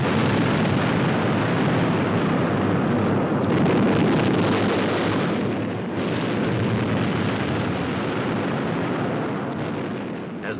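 Bombs explode during a WWII night bombing raid by British Lancasters, Halifaxes and Stirlings dropping incendiaries and blockbusters, a continuous dense, loud rumbling roar of blasts on archive film without clear gaps.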